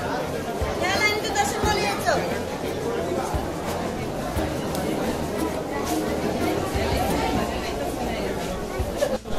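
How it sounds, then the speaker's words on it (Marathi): A large crowd waits in a long queue at the Ganpatipule temple, producing a dense, continuous hubbub of overlapping chatter and indistinct voices throughout. "प्रचंड अशी गर्दी आहे, खूप गर्दी आहे."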